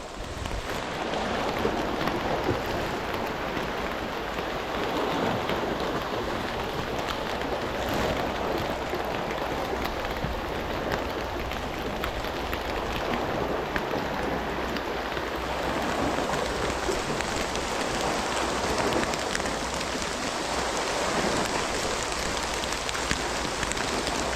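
Heavy rain pouring down on a fishing spot along the shore, a dense, steady hiss of rainfall with no pauses that stays loud and even throughout, with no voices heard.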